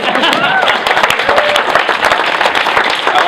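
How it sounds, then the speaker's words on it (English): Audience clapping at a rally in the Capitol, a brief dense burst of hands held at even strength, with voices in the crowd mixed in. "Maybe we could clap a little bit."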